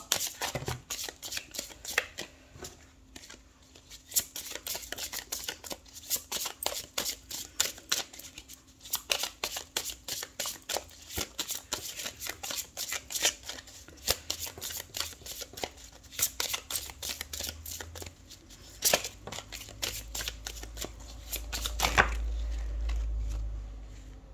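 Tarot cards are shuffled by hand for a long stretch, making a dense run of crisp, riffling flicks and slaps. A low thump is heard near the end.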